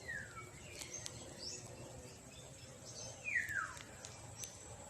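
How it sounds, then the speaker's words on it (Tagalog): On a rural farm in the Philippines among lansones and banana trees, a few birds give faint, scattered chirps and short descending whistles. The calls sit over a soft, quiet outdoor background. "Wala po kayong maririnig kundi huni ng ibon."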